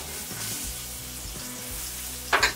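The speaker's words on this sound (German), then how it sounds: "Jetzt gehe ich mit den Zwiebeln, dem Salbei, Lorbeer und dem Knoblauch in die Pfanne rein." Onions, sage, bay leaf and garlic fry in hot oil in a pan, a steady close sizzle with a brief louder crackle near the end as the ingredients are stirred.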